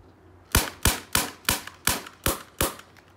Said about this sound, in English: I can get that quite a few shots off.